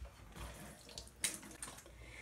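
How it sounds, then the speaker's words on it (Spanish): Tap water running briefly over hands being wetted while shaping homemade bolillo bread dough, a soft close splash with a short brighter burst midway. "ahora me voy a mojar las manos porque no tengo spray"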